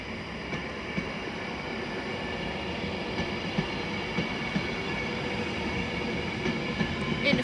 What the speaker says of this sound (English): Now departing is the 12:24 Avanti West Coast service from Liverpool Lime Street to London Euston.